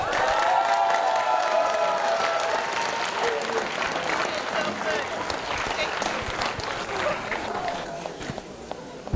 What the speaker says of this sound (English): Let's give a round of applause to a lifetime of love, laughter, and endless happiness for Stephen Ray Brandt and Maycen Kate Brand